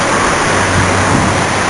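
A roadside waterfall in Japan pours in a dense, steady roar of rushing water, loud and close, with no pauses.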